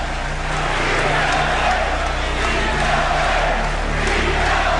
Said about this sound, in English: From the Boston crowd comes a ceaseless pounding chant.